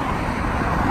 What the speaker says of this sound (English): And I'm sorry about the traffic noise,